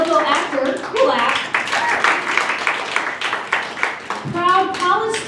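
Crowd applause during a live comedy show introduction at Go Comedy, sustained clapping with a speaker's voice talking over it throughout.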